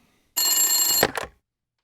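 Telephone bell ringing once in a short burst, a bright metallic trill lasting under a second, then a brief second ring fragment, close and clear with no talk over it.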